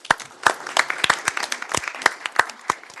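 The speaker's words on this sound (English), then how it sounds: "let's give them a round of applause" A small group at a city council meeting claps for a few seconds, scattered individual hand claps forming brief, sparse applause nearby.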